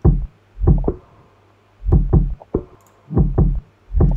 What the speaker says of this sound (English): the kick and the snare are just too loud and the rest of the percussion and stuff kind of gets drowned out a little bit